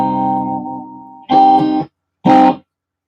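An Epiphone electric guitar on its neck and middle pickup setting rings out a sustained chord, then two short, loud strummed chords separated by a brief silence, with no voices.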